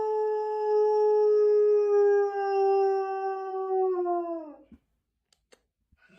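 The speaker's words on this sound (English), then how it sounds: "How to make your wolf howl." A wolf howl played from a smart speaker: one long, steady, tonal howl held for about four and a half seconds that slides down at the end, followed by near silence with a few faint clicks.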